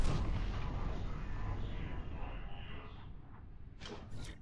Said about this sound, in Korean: 대포를 쏘네요.